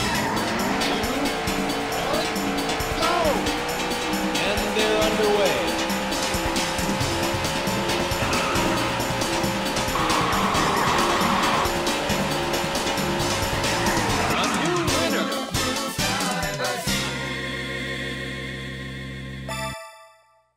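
In the Daytona USA video game, race car engines drone steadily with sweeping pitch and occasional tire squeal over music for most of the stretch, then the sound shifts and fades out near the end.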